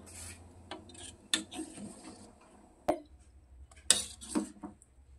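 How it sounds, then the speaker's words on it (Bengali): Sago balls being gently stirred into milk in a pot with a spoon: soft scraping and rubbing strokes with occasional light clinks against the pot, quiet and close. "খুব আলতো আলতো ভাবে নেড়ে নিতে হবে।"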